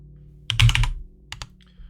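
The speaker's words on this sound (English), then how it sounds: "Make sure I'm over here when I start typing." Typing on a computer keyboard during a VMware server lab class, with a quick cluster of close key clicks followed by a short pause and then two more distinct keystrokes over faint room hum.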